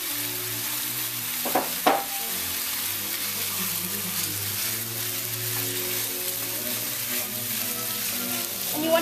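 Pork for banh cuon filling sizzles in a hot pan with a continuous crackle, a couple of brief knocks from chopsticks breaking up the meat, and a faint trickle of water nearby.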